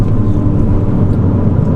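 A stage 2 tuned Ford Fiesta ST engine driven hard, a loud, steady, close engine drone with a dense low rumble and no audible talk.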